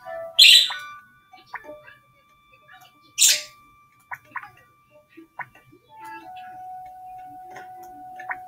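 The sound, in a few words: pet bird chirping in Animal Jam video game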